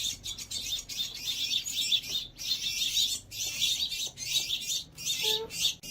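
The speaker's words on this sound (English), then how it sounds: "These house finches are learning to fly but still need to be hand-fed every hour." House finch fledglings at an animal rescue chirp in rapid, high, overlapping bursts, close and continuous with brief pauses between clusters of calls.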